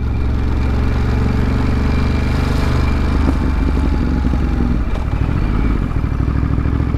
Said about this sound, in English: This bike is just buttery smooth.